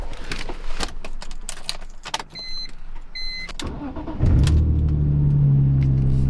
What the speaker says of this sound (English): I'm gonna go ahead and move the M3 and put it in the garage.